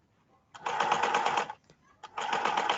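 Sewing machine stitching fabric, two fast steady runs of rapid stitching separated by a short pause, close and fairly quiet.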